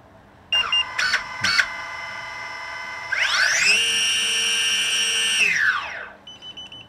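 A FIMI X8SE drone without propellers attempting auto take-off: a few short beeps, then the motors whine up in pitch, hold a steady high electric hum for about two seconds, and wind down, close and fairly loud.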